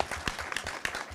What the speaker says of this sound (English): Let's give him a round of applause before we go home.